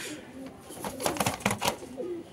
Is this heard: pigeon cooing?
yes